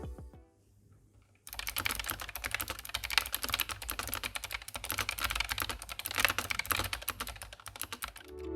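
Rapid, steady typing on a mechanical keyboard with clicky switches starts after a short quiet pause, producing a dense, close run of sharp key clicks with no talking.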